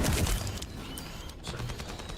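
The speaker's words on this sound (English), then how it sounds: "Shotgun." A shotgun fires in a video game: one booming blast at the start, then a fading rumble and scattered clatter, with no one talking.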